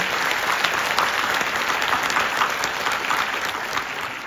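At a bachelor's graduation ceremony in Human Resource Management and Insurance, the audience claps for the graduates in continuous, even applause from many hands, with no speech over it.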